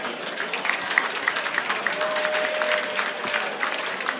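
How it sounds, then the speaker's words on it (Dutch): A crowd at an election results night gathering gives steady applause, many hands clapping continuously at moderate loudness with faint background murmur. "ik vraag een groot applaus voor al die mensen"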